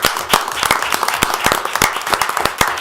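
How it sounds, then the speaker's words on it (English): Small group clapping for city council members at a Salisbury City Council legislative session, a few dozen sparse, uneven hand claps close by with no voices, lasting a few seconds. "You each deserve a round of applause."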